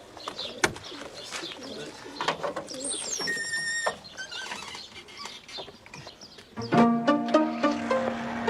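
Racing pigeons coo and shuffle in a basket, soft repeated murmuring calls with light patter and scratching, close by, with a brief tonal squeak and a steadier hum near the end.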